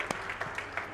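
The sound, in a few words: audience applause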